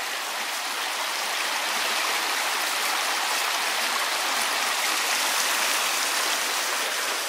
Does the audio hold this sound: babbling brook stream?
yes